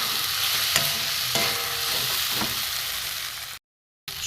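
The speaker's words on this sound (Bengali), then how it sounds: "আমি চাল মগজ দিয়ে দিলাম, একটু শুকনো করে দেবো নেড়ে।" Melon seeds dry roasting in a pan while being stirred, a dense rustling hiss with a few scraping strokes, steady and close, cutting out briefly to silence near the end.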